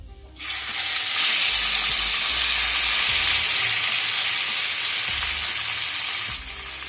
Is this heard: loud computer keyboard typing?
no